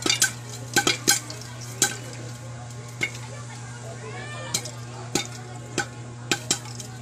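Popcorn kernels popping inside a covered pan: sparse, irregular sharp pops spaced a second or so apart over a steady low hum, thinning out as the batch finishes.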